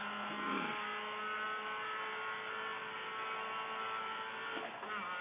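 A Mazda Cup race car engine drones steadily with a strained, buzzing tone, heard faint and muffled from inside the cabin, with a brief pitch shift suggesting a gear change near the end; no talking.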